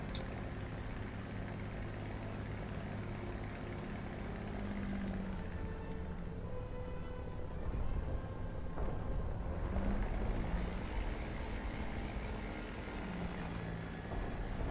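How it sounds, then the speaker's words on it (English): Engine drone from an aircraft in a flight combat game rolls continuously, a broad propeller-like roar that swells and eases slightly as another plane passes nearby, with no voices. "I did hear another aircraft in this area, Laxor, but I don't know what it was."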